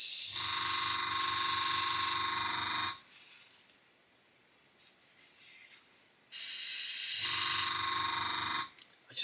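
Airbrush blown back through with the nozzle covered, giving loud bursts of hissing, gurgling air, two long spells separated by a quiet gap, close up.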